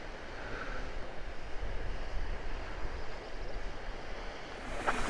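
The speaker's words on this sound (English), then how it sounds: "That waterfall!" A waterfall in Peru, below an Inca site, roars as a steady broadband rush with no let-up, loud and continuous throughout.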